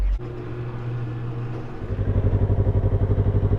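A motorcycle engine idles with a steady low hum, then revs up into a louder, rapidly pulsing drone that holds close to the microphone.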